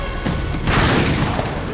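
Gunfire in the video game Uncharted 3 comes as a loud booming burst of shots that rolls into a dense crackling barrage, with no talk over it.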